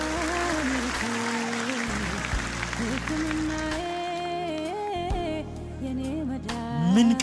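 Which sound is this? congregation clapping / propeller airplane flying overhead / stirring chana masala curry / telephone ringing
congregation clapping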